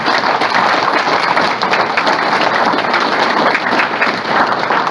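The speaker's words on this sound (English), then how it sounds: "can we give these speakers and mentors a round of applause?" A panel-discussion audience applauds its speakers and mentors, producing loud, sustained, evenly dense clapping that fills the room from start to end.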